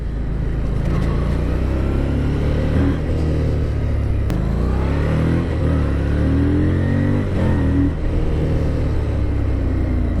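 A 530-pound Harley-Davidson Street Rod 750 V-twin motorcycle accelerates through its gears, its engine rising in pitch and dropping at each shift over steady wind and road rumble, heard from the rider's position.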